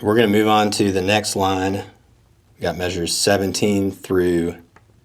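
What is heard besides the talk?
No everyday noise stands out behind the speech.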